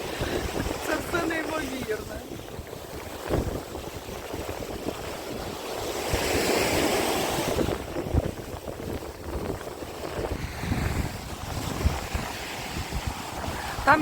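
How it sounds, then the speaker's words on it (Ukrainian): Sea waves with whitecaps wash and surge under gusting wind at a beach in Karolino-Buhaz, with a person speaking over the steady, fluctuating roar. "цей вітер, ці барашки"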